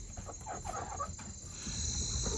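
Chickens and roosters on a small homestead cluck close by, a few short clucks over steady background noise with a faint high hum.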